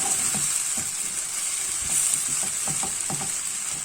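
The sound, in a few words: onions frying in a pan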